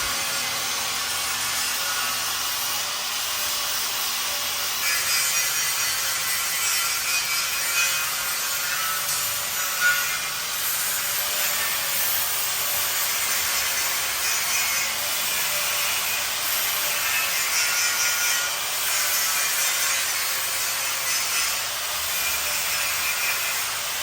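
A sander grinds steadily over welded metal joints of a grill, a continuous harsh, gritty whir lasting the whole stretch with no voices.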